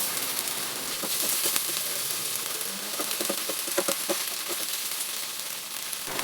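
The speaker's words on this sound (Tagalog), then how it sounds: "Sunod, digisa ang bawang, sibuyas, meatloaf, carrots," Garlic, onion, meatloaf and carrots sautéing in a pan, a steady bright sizzle with scattered ticking stir strokes, close and fairly quiet.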